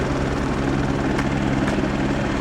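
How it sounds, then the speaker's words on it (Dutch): A helicopter landing on an open space in the remote Georgian village of Ushguli gives off a loud, steady rotor thrum with constant engine roar, close and continuous with no talking. "Just landing a helicopter on an empty space."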